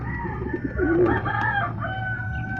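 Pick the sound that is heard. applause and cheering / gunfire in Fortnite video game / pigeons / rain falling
pigeons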